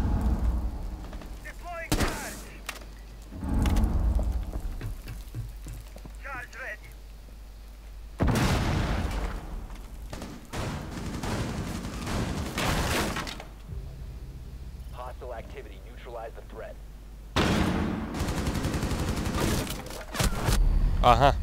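Gunfire in the Rainbow Six Siege video game, several loud separate bursts of shots spread across the stretch, with someone talking between the volleys.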